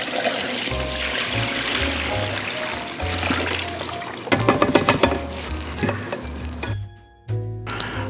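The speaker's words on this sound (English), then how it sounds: "I'm pouring it right over." Salt brine is poured over a Thanksgiving turkey in a steady, splashing, trickling stream that runs throughout, with sustained musical tones underneath and a brief dip near the end.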